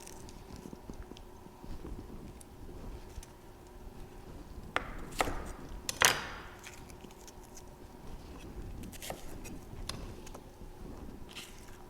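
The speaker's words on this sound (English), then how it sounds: "I'm going to roughly chop this onions here I have" A knife chops onion on a cutting board in irregular, crisp strikes over a low steady background hum.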